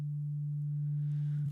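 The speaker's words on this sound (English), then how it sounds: "at the moment, I've got our carrier signal set to a sine wave" An FM synthesizer's carrier set to a sine wave gives a pure, steady, low-pitched tone that holds unchanged and alone for its full length.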